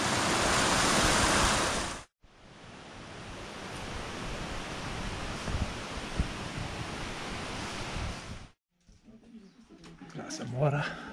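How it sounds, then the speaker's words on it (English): Small cascade on a mountain stream high above Cueva del Esplendor in Jardín, Colombia, a dense, steady rush of water close by, broken by two short gaps and ending in quieter outdoor noise. "And one more little cascade a little higher up yet"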